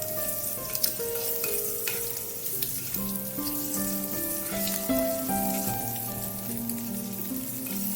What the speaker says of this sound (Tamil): 2 பக்கமே ஃப்ரை ஆகி வரட்டும்